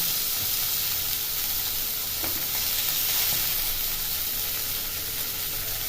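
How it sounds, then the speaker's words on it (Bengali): Kanla fish frying in oil in a pan gives a steady, dense sizzle that stays close and even throughout, with faint clinks of the pan and no voices. "এভাবে উঠে পাল্টে সবগুলি মাছ ভাজা করে নেব"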